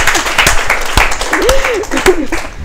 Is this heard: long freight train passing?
no